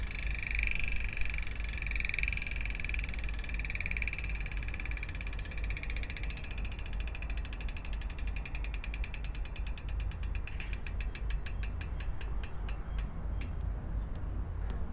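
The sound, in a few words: bicycle rear hub 36-tooth ratchet freewheel clicking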